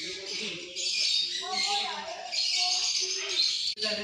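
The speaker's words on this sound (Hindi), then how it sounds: "ये नॉर्मल तोते हैं।" Parrots in a zoo aviary in Rohtak chirp and squawk in bright, repeated calls close by, with a voice talking underneath.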